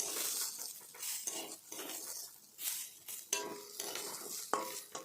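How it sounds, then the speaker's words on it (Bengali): Mung dal dry-roasting in a pan for khichuri, with steady scraping stirs of a spatula and clinks against the pan over a soft frying crackle, close and continuous. "এখন আমি ওই খিচুড়ির জন্য ডালটা ভেজে নিচ্ছি"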